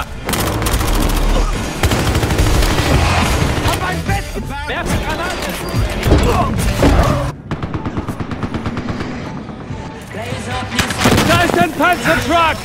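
Gunfire and a grenade explosion in the video game Battlefield Hardline, with dense rapid bursts, sharp single shots and heavy booms, loud and close, while voices shout over the fighting.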